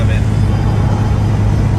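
Steady low engine drone from a Toyota AE86 with a 4A-GE engine driving on a Sunday morning through Burbank, California, heard from inside the car as a constant hum without pauses.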